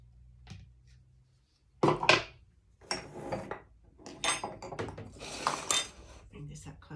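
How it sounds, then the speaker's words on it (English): Blended keto cream-of-spinach soup going into a saucepan, with clinks and scrapes of cookware and utensils in bursts, close and fairly quiet, with pauses between. "I can put it into a saucepan"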